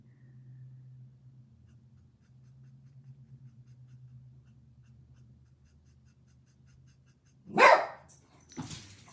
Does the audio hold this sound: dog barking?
yes